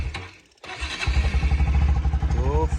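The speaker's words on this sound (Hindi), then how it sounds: "तो फाइनली गाइस बाइक स्टार्ट हो।" A motorbike in the snow catches after a short pause and settles into a loud, rhythmic idle thump, with a brief rising whine near the end.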